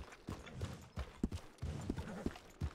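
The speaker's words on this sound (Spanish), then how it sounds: "¡Mira, este caballo está muy loco!" Horse hooves clip-clopping on the ground in Red Dead Redemption II, an irregular run of soft, close hoof strikes with faint background noise.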